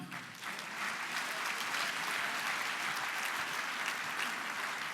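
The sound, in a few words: audience applause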